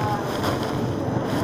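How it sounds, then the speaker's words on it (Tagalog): Steady, roaring wind buffets the microphone throughout a motorcycle ride, a dense rushing noise with no pauses. "Mahangin eh."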